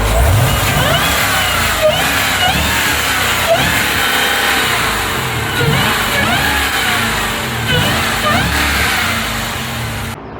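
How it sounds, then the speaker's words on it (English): The supercharged V8 of a Jeep Grand Cherokee Trackhawk revs again and again in quick, evenly spaced blips, each rise carrying a sharp supercharger whine over a loud, close engine roar. "makes insane supercharger whines when you rev it"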